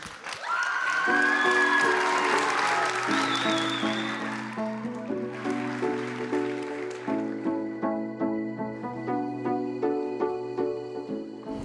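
A school audience claps and cheers with a few whistles for a singer, the applause dying away after about four seconds as soft piano chords begin a song.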